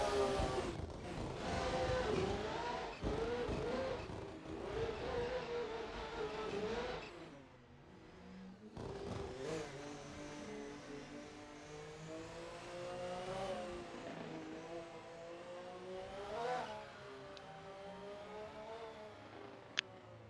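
Nissan S15 race car giving chase on a track, engine revving and whining through gear changes, loud at first, dipping briefly, then rising again with a final sharp tick.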